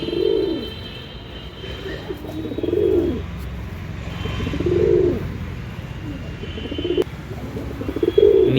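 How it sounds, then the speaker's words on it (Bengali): Pigeons kept for sale, including a Kalshira pigeon, coo close by in slow repeated rolling phrases a couple of seconds apart, with faint chirps and low background noise. "এই কালশিরা পায়রাটাও সেল আছে।"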